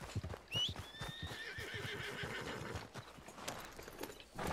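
A horse neighs in Red Dead Online, a shrill rising whinny near the start that trails off, with steady clip-clop of hooves and scattered thumps continuing underneath, moderately close.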